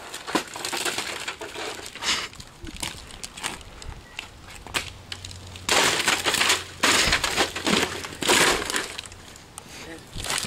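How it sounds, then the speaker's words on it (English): Cracked glass is peeled off a broken, dead flatscreen TV, producing a series of sharp crunching, crackling and snapping bursts that grow louder and denser toward the end, close up with some low rumble beneath. "just peel the glass off."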